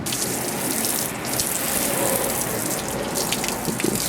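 Water sprays hard and steadily onto Toyota Highlander engine parts being washed, a continuous hissing gush like a pressure nozzle, close by and without talk.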